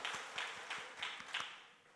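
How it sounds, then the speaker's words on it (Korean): A church congregation claps together to bless the children, producing soft, evenly spaced rhythmic claps that sound fairly distant and faint over light room noise. "우리 어린아이들을 축복하는 마음으로 우리 한번 박수하겠습니다"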